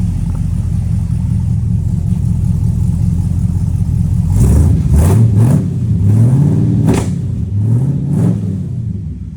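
A 1971 Chevrolet Cheyenne Super K20 pickup with a GM crate engine idles with a deep rumble, then revs up several times in quick bursts, each climbing and falling, loud and close.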